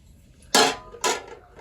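Dishes, pots and pans being washed in a home kitchen: two sharp, bright clanks about half a second apart, close and fairly loud against a quiet background.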